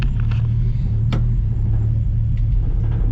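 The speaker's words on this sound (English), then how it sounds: "Okay, so she starts and holds an idle" A 1965 Mustang restomod's engine runs at a steady, loud, low idle right after starting, with a brief click partway through and no voices.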